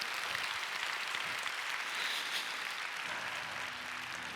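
A church congregation claps in praise during a Korean Protestant worship service, a steady, dense wash of applause filling the hall at moderate distance with no talking over it.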